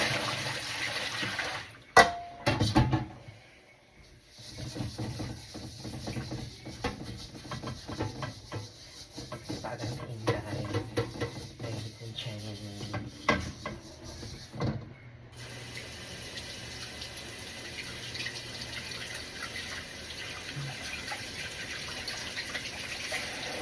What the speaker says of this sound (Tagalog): So ito guys yung kawali na aking huhugasan